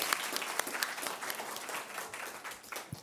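At a school board meeting, an audience claps for a student presentation, with dense, even applause from a crowd that softens a little toward the end.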